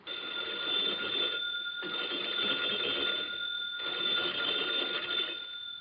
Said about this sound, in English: the phone bell rang.